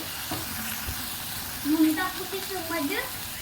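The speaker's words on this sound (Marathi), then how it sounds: "त्याच तेलामध्ये आपण टाकलं मसाला, ज्यात की आपण कांदे टमाटर लसूण कोथिंबीर ऍड केलंय" Masala of onion, tomato, garlic and coriander frying in oil gives a steady soft sizzle, with a few louder spits near the end and a faint voice in the background.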